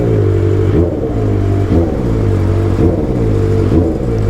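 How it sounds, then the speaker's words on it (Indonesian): Kawasaki ZX motorcycle fitted with a Raw Pro Race crossover exhaust revving steadily and close up, a deep droning idle broken by four regular throttle blips that rise and fall, with no talking. "Ini aku pakai knalpot gini ya bro, Raw Pro Race, biar ada bass-bassnya gitu"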